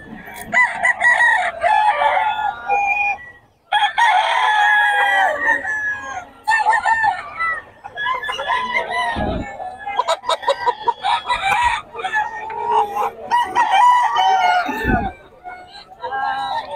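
Roosters crow loudly and repeatedly amid steady clucking from many chickens at a Philippine chicken sale, with people chattering in Filipino in the background.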